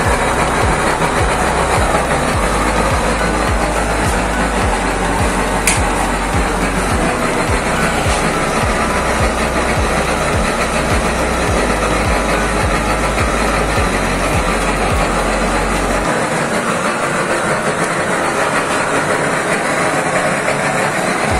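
A used-oil stove burner fitted with an oversized nozzle and a blower roars steadily and loudly, a dense continuous rush with a heavy low rumble that drops away near the end.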